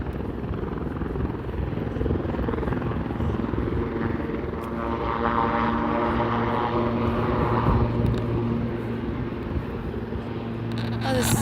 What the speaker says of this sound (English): Oh, this is interesting. Helicopters or plane.